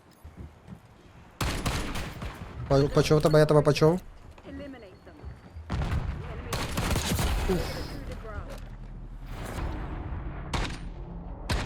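Bursts of rapid gunfire crackle between stretches of talking, with a loud volley near the start and scattered shots later under speech.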